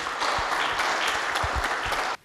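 Summit audience at a business panel applauding in a dense, steady wash of clapping that cuts off sharply at the end.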